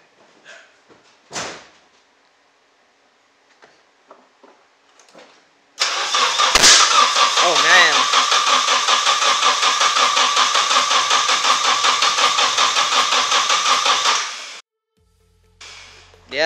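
A Nissan 240SX engine cranks and catches, then runs at a loud steady idle for about nine seconds before cutting off; a few clicks and a thump come before it.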